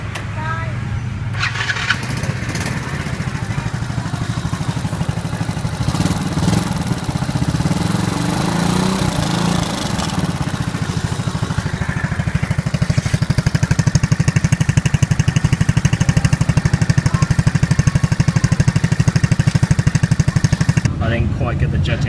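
A small Honda 50cc motorcycle engine, bored up by 22cc, runs steadily at close range and grows slightly louder toward the end, with a steady buzzing drone and brief quieter moments at the start and finish.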